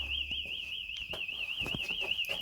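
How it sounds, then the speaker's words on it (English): A car alarm wails continuously nearby, its warbling siren tone steady and loud over the whole stretch, with clanks and knocks from working on a 1976 Honda CF70 Chaly motorcycle underneath. "I'll just ignore the alarm."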